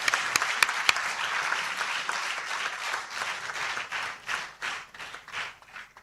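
Audience applause after a university inaugural lecture, starting with a few sharp individual claps, then a full round that gradually thins into scattered, separate claps toward the end.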